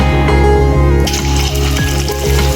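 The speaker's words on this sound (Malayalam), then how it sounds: "ചൂടായ ഓയിലിലോട്ട് ഓരോന്നിട്ട് നമുക്കിതിന് ഫ്രൈ ചെയ്തെടുക്കാം." Chicken pieces for a thattukada-style chicken fry sizzle in hot oil on a medium flame, a loud, dense, steady crackle with bubbling that holds throughout.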